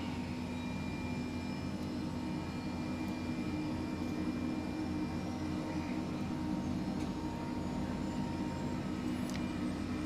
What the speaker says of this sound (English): we'll start up the second engine because this is a 2-engine helicopter.